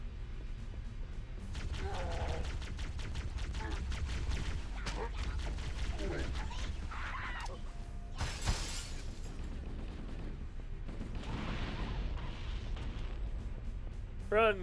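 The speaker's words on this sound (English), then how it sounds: "All the grenades are going off." Grenades going off in the Cursed Halo video game: a dense run of cracking, shattering blasts and booms that keeps up almost without a break, with one especially sharp burst partway through and another loud hit at the very end.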